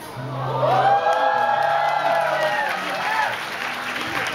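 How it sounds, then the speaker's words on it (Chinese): An audience at a festive indoor gathering claps and cheers loudly, with whoops and shouts rising and falling over a few seconds. "不要鼓掌"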